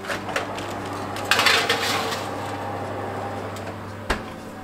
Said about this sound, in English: Once your oven is ready, you can then place the crickets inside.